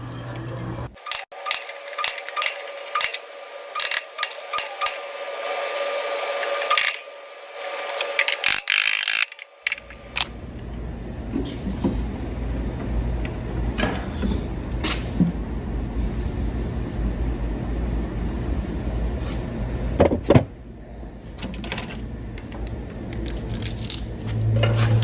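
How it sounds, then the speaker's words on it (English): A ratcheting dent puller works on an Audi Q5 quarter panel during repair, giving close, repeated metallic clicks through the first half and then a rougher, noisier mechanical stretch with occasional sharp clacks. "I'm just using the dent puller now."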